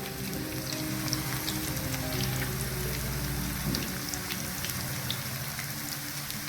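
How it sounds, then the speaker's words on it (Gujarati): Banana wafer slices frying in hot oil, a steady, dense sizzle with fine crackling pops, close and continuous at moderate level with no talk. "તો હવે તળાય છે."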